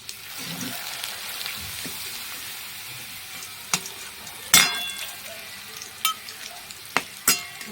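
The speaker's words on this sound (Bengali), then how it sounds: "সর্ষের তেলটা গরম হয়ে গেছে এখন আমি পাঁপড়গুলো দেখো দুভাগ করে রেখেছি দুটো টুকরো করে এবার পাঁপড়গুলো আমি ছেড়ে দেবো" Papad pieces frying in hot mustard oil in a small pan, a steady close sizzle with a few sharper pops and crackles toward the end, no voices.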